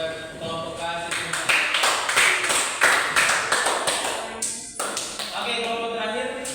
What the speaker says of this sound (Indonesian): berikan aplaus kepada kelompok kasih